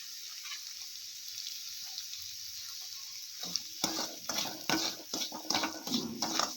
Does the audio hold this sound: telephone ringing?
no